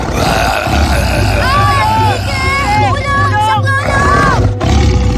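A tiger roar sound effect in a children's story plays as loud, drawn-out growling roars mixed with a dense, busy background bed, continuing all the way through.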